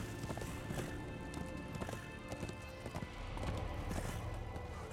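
Horse hooves clip-clop steadily at a run in the video game Darksiders 2, a continuous rhythmic beat of hoof strikes over a dense, noisy game soundscape.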